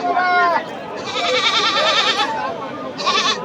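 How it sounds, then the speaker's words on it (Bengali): Goats bleat at a busy village livestock market in Bangladesh, several wavering cries up close, one after another, amid crowd talk. "এই দেখেন কি সুন্দর সুন্দর ছাগল"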